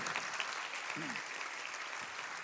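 A church congregation at an Easter Vigil claps in thanksgiving, a dense, even wash of applause that carries on steadily through the clip at moderate distance, with a voice faintly heard underneath.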